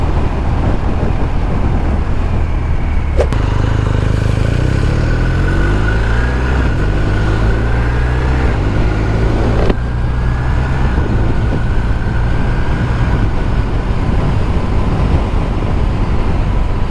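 A BMW R 1250 R 2024 roadster's exhaust drones steadily while riding, its engine note climbing through gears in stepped rises, loud and continuous under heavy wind rush.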